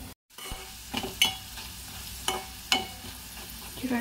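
Potatoes and dal fry in a pan over low heat, a soft continuous sizzle broken by several sharp scraping stirs of a spoon against the pan, close and alone with no voices.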